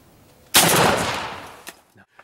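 A single loud shotgun blast during a turkey hunt outdoors, a sharp close report with a short decaying tail, followed by faint rustling.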